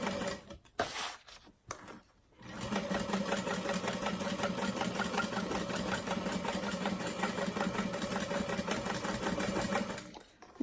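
A sewing machine stitches a fleece-interfaced lining for a frame purse, a loud, steady close whir running continuously after a few brief opening starts and stops, then tapering off at the end.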